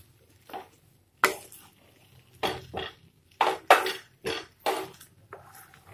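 A spoon scrapes and clinks against a pan while suji upma is stirred, giving irregular close knocks and scrapes separated by short quiet gaps.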